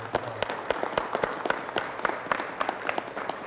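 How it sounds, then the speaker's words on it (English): An audience at a city council meeting gives a round of applause, dense and sustained clapping from many hands at moderate distance, with no one speaking over it. "let's give them a round of applause"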